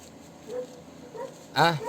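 A few dog barks and yips, the last one loud and close, with a faint voice in the background.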